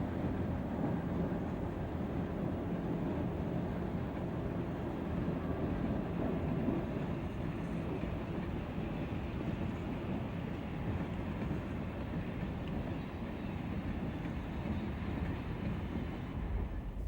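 A Milwaukee Road train rolls toward the 850-foot Kelly Creek Trestle outside Adair, its steady, loud rumble continuous with no pauses and no voices.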